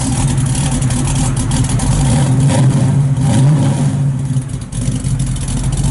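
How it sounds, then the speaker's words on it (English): A 1968 Chevrolet Camaro SS 350 engine idles and revs through a deep, throaty Magnaflow exhaust, the low rumble swelling and easing in steady waves. "the Magna-Flow exhaust really sounds good"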